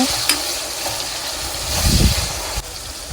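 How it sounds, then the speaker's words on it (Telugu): Tomatoes and salt being stirred in a frying pan for a gongura prawn fry: a steady close sizzle with a louder scraping stir near the middle, no voices. "సాల్ట్ వేసిన తర్వాత ఇప్పుడైతే మొత్తం కలుపుకుంటున్నాము ఇలాగా."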